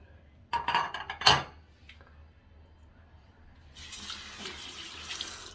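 Dishes clatter briefly in a sink, then a tap starts running, water pouring steadily into the basin for the last couple of seconds.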